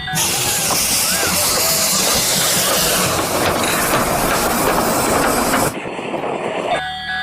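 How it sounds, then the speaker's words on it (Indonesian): A small toy Thomas train runs around a track with a steady rattling whir and hiss, then stops abruptly near the end. "Mari kita nyalakan. Wah, keren. Kereta apinya mengelilingi mainan teman-teman."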